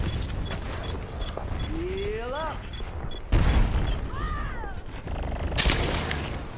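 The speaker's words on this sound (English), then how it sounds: "My sentry was destroyed." In Overwatch, a sentry turret is destroyed with a loud, sudden blast, followed by a second burst a couple of seconds later, amid game voice lines and steady background battle noise.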